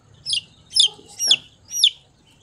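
Four high, thin peeps from a baby chicken sound in an even sequence, close and clear over a faint low rumble.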